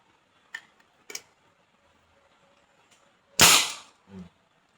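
A homemade PVC toy gun fires a few quiet pops: two soft clicks early on, then one sharper, louder burst followed by a short thud, all close by with no talking.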